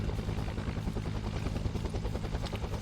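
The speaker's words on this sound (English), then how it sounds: "So we're seeing a big amount of choppers being used for now" Several military helicopters flying over in the Arma 3 UNSUNG Vietnam mod: a steady, loud, rhythmic rotor thump over a dense engine roar, sustained throughout with no talk.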